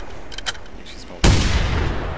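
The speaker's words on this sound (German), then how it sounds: "Ich schieß mal auf." A single sharp rifle shot cracks out loud and close in the hunting video game theHunter: Primal, ringing out after a brief quieter lead-in with faint background noise.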